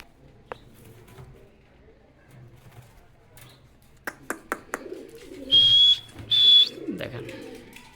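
Kashmiri Lotan pigeons, a pricey pair on sale, giving low, soft cooing early on, then a run of sharp clicks and two loud, steady whistle-like tones close by.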